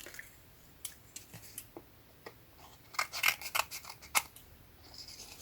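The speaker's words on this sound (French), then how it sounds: "Donc ça, je vais couper." Scissors snip through material up close, sounding as a series of crisp cuts with a quick cluster in the middle, and there is no speech.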